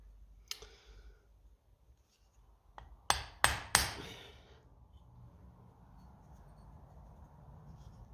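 Hammer tapping a small punch against a distributor cap clip on a Lucas D3A4 Ferguson distributor, a single light tap followed by a quick burst of three sharp metallic taps, close and crisp in a quiet workshop.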